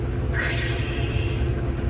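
A steady low rumble of a combine harvester with a burst of hissing, pattering corn spilling from an overfilled grain tank across the hard cab roof, swelling and then fading.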